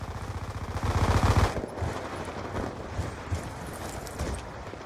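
Rapid automatic machine gun fire in the video game Black Ops 2, a dense burst early on followed by scattered shots, loud and close with no talk over it.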